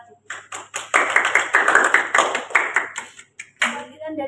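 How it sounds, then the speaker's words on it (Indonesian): Applause for the group 1 representative at a university class discussion session, a short burst of quick clapping from a small group, close and fairly loud, fading out near the end. "Beri aplaus untuk perwakilan kelompok 1"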